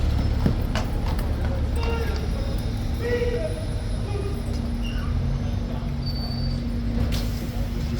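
Hooves of a King's Guard horse clip-clop steadily on hard ground outside a busy tourist spot, the rhythmic knocks sitting under constant crowd noise and chatter.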